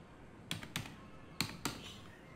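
Four separate keystrokes, in two close pairs, tap out a card PIN on a computer keyboard, crisp and near against a quiet room.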